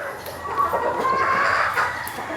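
A Brown Red Legged Hatch gamefowl hen clucks up close, giving a short run of throaty, rising clucks over a few seconds with faint background noise.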